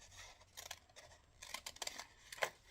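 Scissors snipping through paper and card while cutting out craft tags, a quiet close-up series of short crisp cuts in an irregular rhythm with small pauses between them.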